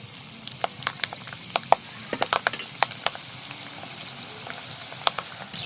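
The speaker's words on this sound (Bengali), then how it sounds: "অল্প জালে এগুলো লাল লাল করে ভেজে নেবো" Peanuts frying in oil over low heat, a soft steady sizzle with scattered sharp crackles and pops, fairly close and with no talk.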